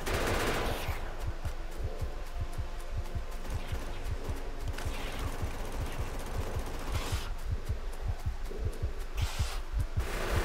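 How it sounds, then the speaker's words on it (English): Defensive turrets in the Factorio video game fire rapid bursts at attacking biters, dense machine-gun-like rattling that keeps going throughout at moderate volume, with no talk. "Run over here so that these turrets can help me out before I die."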